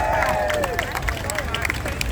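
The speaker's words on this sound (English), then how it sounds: "Give Joy Simmons a big hand clap." Crowd at a retiree rally outside City Hall claps in a loose, continuous patter of hands, mixed with shouting and babble of voices.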